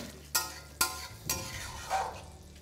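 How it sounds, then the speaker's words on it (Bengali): Potato and cauliflower mixture being stirred in hot oil in a pan, with four distinct scraping strokes spaced about half a second apart over a soft, steady background. "তাই একটু ধৈর্য ধরে এটাকে ভালো করে মেশাতে থাকুন।"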